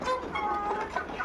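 White Hy-Line layer hens on a farm cluck in a continuous overlapping murmur, several birds close together at moderate volume with no clear talking over them.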